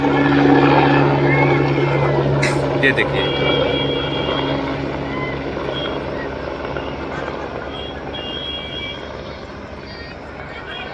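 A politician's helicopter takes off from a public rally ground in Duddhi, Sonbhadra, its loud rotor and engine roar steady and close, then slowly fading as it climbs, while someone speaks over it.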